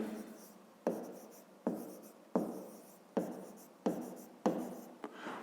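Pen strokes writing numbers for a fifth-grade math exercise, scratching in seven close, regular bursts about every 0.7 seconds, each starting sharply and fading.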